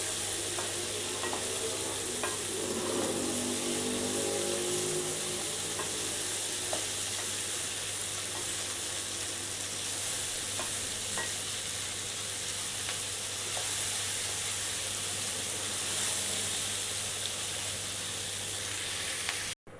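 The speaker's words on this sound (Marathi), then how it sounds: "आणि भेंडी 5 मिनटं चांगली परतवून घ्यायची." Okra (bhindi) being stir-fried in a pan gives a steady, continuous sizzle lasting about twenty seconds, with a few soft stirring scrapes early on and no voices.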